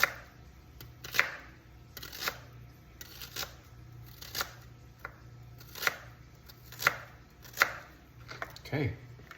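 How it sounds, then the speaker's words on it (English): A knife chops through cabbage on a board for coleslaw, about ten sharp, fairly evenly spaced cuts sounding close and clear over a quiet room. "I'm gonna cut some more, and cut some more of the cabbage"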